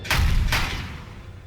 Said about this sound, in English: The explosion wasn't as bad as I thought it was going to be.